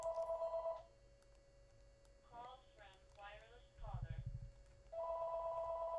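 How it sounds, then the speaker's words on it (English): A telephone rings, giving a steady electronic tone at the start, then falling silent while a person talks, before ringing resumes at the end. "My phone rings all day."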